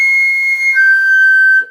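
A flute sounds a sustained high C, fingered wrongly with the right pinky down on a C foot, producing a thin, whistly tone that wavers and shifts pitch slightly before stopping.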